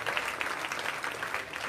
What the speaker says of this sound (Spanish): Un fuerte aplauso para Socorro.